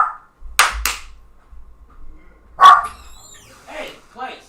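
A little dog barks a few times in an office, sharp and close, with short pauses between yaps, while someone talks briefly.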